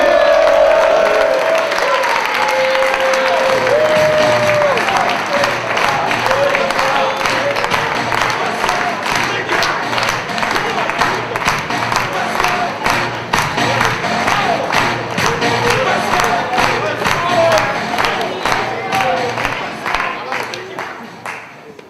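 A slam poetry event audience applauds and cheers loudly for a poet from Granville, with sustained dense clapping, whoops and crowd shouts that gradually thin toward the end.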